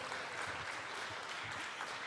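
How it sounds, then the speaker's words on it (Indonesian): Audience members at the launch of Indonesia's national higher-education standards and accreditation transformation applaud in a steady, continuous patter of clapping. "Boleh tepuk tangan Ibu Bapak."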